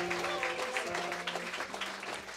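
Brief round of audience applause for a musician at a birthday jam session, dense clapping with a sustained musical tone humming beneath and fading slightly toward the end.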